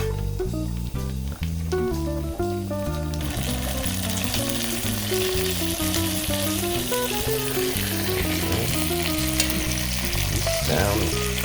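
Beef ribs go back into a hot pan and sizzle loudly and continuously, a dense crackling fry with frequent pops, close up and with no talking.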